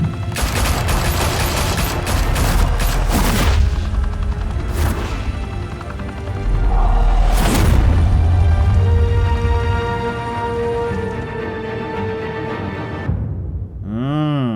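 Gunfire in a Batman Telltale Series game scene: sustained loud volleys and bursts of shots with booming impacts, continuous throughout, ending in a resonant ringing tail.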